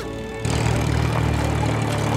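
A cartoon tractor engine, repaired and fitted with a turbo propeller, starts up abruptly after a short quiet stretch and then runs as a loud, steady droning whir with no pauses.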